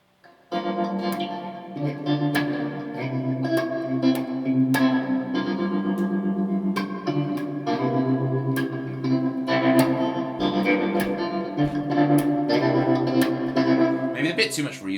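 An electric guitar played through heavy reverb and effects, sustained chords washing into one another in a thick, echoing tail, steady and loud throughout a live studio stream.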